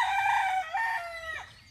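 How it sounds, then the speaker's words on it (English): A rooster crows close and loud in one drawn-out cock-a-doodle-doo that falls off at the end, with no other sounds around it. "Forgive my roosters"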